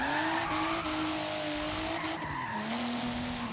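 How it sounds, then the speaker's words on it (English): Nissan Fairlady Z 432 with Rocketbunny body kit in Forza Horizon 3, its engine droning at steady high revs while the tires squeal through a drift, loud and continuous with a brief dip in pitch. "pretty much every Nissan engine in this game sounds great."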